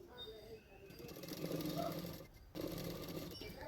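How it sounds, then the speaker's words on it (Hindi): A sewing machine stitches along the bottom edge of a boat neck princess cut blouse in quiet bursts of rapid whirring, with a short pause in the stitching partway through. "अभी नीचे के साइड में मैं किनारे किनारे पे सिलाई कर दूँगी।"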